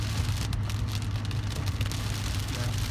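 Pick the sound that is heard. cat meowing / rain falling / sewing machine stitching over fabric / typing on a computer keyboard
rain falling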